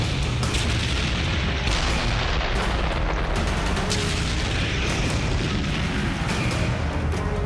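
Tank cannon fire against Sherman tanks in a Battle of the Bulge tank battle video game, dense booming blasts and rumbling explosions filling the whole stretch, loud and continuous with sharp repeated impacts, no speech.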